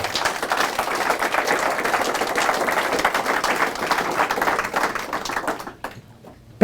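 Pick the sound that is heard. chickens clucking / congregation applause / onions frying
congregation applause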